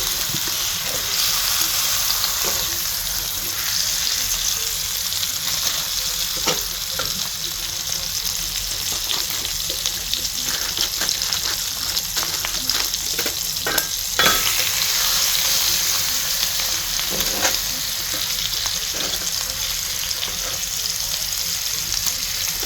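Chicken thighs seasoned with black pepper, onion powder, nature seasoning and smoked paprika fry in a pot with a steady, close sizzle, with occasional sharper pops and stirring sounds throughout.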